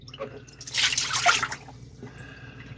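Dirty water being emptied from the tank of a Dreame Aqua10 robot mop, a short splashing gush that peaks for about a second and then trails off into light drips.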